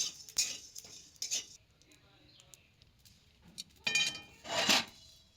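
A spoon stirs whole coriander and cumin seeds dry-roasting in a kadai, giving a few sharp, scraping clinks against the pan at irregular intervals, close but quiet, with near silence between them.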